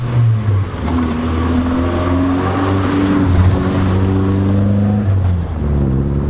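A Triumph Spitfire Mark IV sports car engine with 1500 specs runs steadily and loudly up close, its pitch shifting as it revs up and settles, with no talking.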